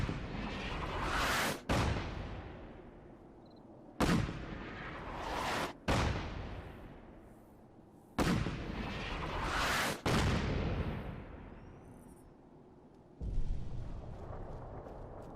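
Artillery strike explosions in Fallout 4 boom in a steady series of loud, heavy blasts, each with a long rumbling decay before the next impact lands.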